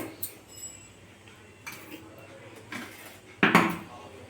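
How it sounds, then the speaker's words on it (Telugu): A spoon clinks and scrapes against a pot while ginger-garlic paste and raw mango are stirred into Andhra fish curry, with irregular metallic knocks ending in a louder clatter. "అంతా అలా వేసుకొని కలుపుకోవాలండి"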